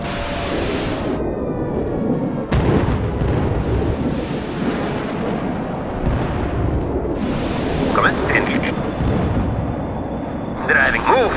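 Artillery barrage in the World in Conflict game, REDFOR reconnaissance strike, with repeated loud booming blasts and rumbling impacts rolling through the scene, mixed with radio chatter and voices over the battle noise.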